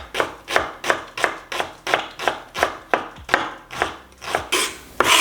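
A knife finely dices half an onion on a cutting board, producing about a dozen crisp, evenly spaced chopping thuds in a quick steady rhythm, close and clear with no talking.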